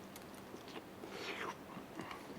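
Biting and chewing a home-cooked Hoosier ribeye steak with a coffee dry rub, heard as soft, close, quiet mouth sounds with a few faint crunchy bites and no talking.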